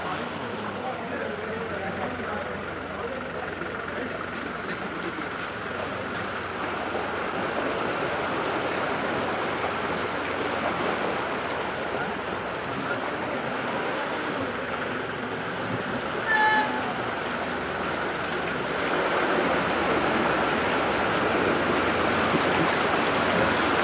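Floodwater after heavy rain in Nawalgarh rushes through streets and a drain, a continuous broadband gushing that stays steady throughout, with people talking nearby.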